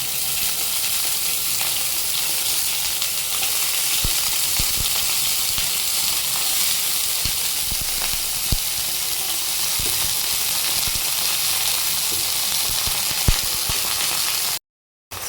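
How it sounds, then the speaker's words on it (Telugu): Green peas and paneer kabab mixture fry in a pan with a steady, close sizzle and hiss, occasional small pops and stirring clicks, continuing without talk until a brief cut near the end. "సో దీన్ని ఒక 2 minutes ఫ్రై అవ్వనివ్వాలి."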